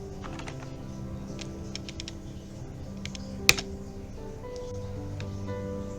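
Keys tapped on a computer keyboard while a Linux terminal command is entered, producing scattered light clicks over a steady hum, with one sharper key strike midway.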